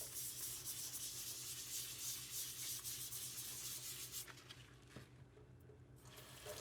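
A grinding wheel being scrubbed with a toothbrush and Comet cleanser and a little water, giving a steady, close, continuous rubbing hiss that eases off toward the end.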